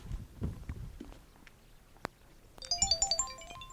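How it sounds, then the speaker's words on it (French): A telephone rings in a domestic scene, its electronic trilling tone entering after scattered footsteps and small knocks, repeating in quick pulsed bursts near the end, fairly close and clear. "Le téléphone!"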